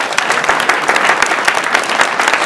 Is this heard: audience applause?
yes